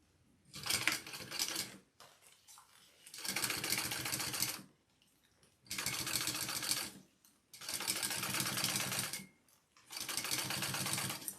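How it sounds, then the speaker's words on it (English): A sewing machine topstitches along one side of a fabric piece in five loud, even runs of rapid stitching separated by brief pauses. "All right, let's top stitch this side."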